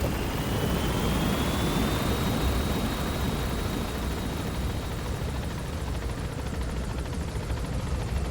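Steady, loud aircraft engine roar from a helicopter-like craft climbing in Metal Gear Solid V: The Phantom Pain, a constant droning wash with a faint whine slowly rising in pitch, no talk.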